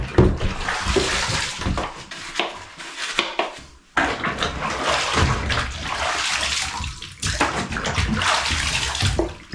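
Plastic 2-gallon bucket lids are rinsed under running water in a kitchen after scrubbing, with steady splashing and sloshing, hollow plastic knocks and clatter, close and continuous.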